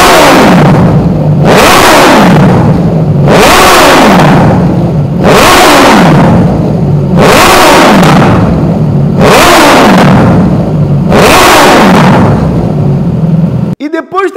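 A Suzuki GSX-S motorcycle with a sport exhaust revs up hard again and again, six loud rising-and-falling throttle blips in a steady rhythm, close by.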